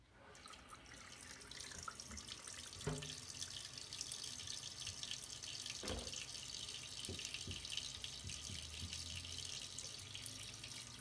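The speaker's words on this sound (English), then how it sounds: "let's get some water up in there" Tap water running steadily into drink bottles at a sink, a constant hiss and splash with a few knocks and clunks, fairly quiet, no talk.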